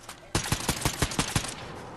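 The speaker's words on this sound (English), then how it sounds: "Shoot the tree, everybody shoot the tree." Rapid automatic gunfire aimed at a tree in Fortnite, a close, loud burst of about nine evenly spaced shots lasting just over a second, with quieter game ambience before and after.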